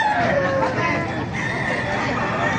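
A rooster crows amid the babble of a gamefowl market in Baliuag, its call rising over nearby crowd chatter and other birds.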